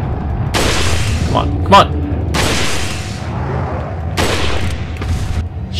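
Heavy gunfire from a powerful gun in Resident Evil 4, a few loud booming shots spread across the moment, with someone talking over the action.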